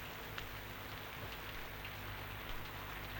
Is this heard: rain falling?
yes